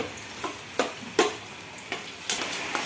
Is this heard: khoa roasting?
yes